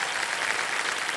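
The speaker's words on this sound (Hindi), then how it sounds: "तालियां बज जाए।" Studio audience applause on a television quiz show, a steady dense wash of clapping with no pauses, fairly loud and continuous throughout.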